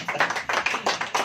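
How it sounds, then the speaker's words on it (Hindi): A church congregation claps in a quick, steady rhythm, many hands together in a reverberant hall with no voices over it. "ताली हो जाएगी।"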